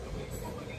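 A CSX train rumbling past in Rittman, Ohio, a brief steady low roar of rail cars.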